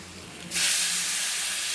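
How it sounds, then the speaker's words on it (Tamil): Dissolved tamarind water poured into a hot, spicy brinjal and potato kara kuzhambu sets off a sudden loud, steady sizzling hiss that lasts to the end after a quieter start. "இப்போ புளியை கரைச்சி நம்ம ஊற்றிக்கலாம்."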